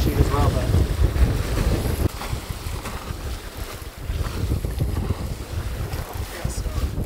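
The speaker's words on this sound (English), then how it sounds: "Wind's blowing a little above 20 today, 20 to 25, gusting up to 25" Strong wind of 20 to 25 knots, gusting to 25, roars across the microphone while a sailboat is underway, a heavy constant buffeting with water noise beneath it and a faint voice in the background.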